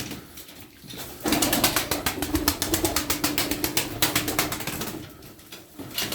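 A burst of rapid wing clapping from tumbler pigeons, loud and close, rattles for several seconds over soft continuous cooing, then fades back to the cooing alone.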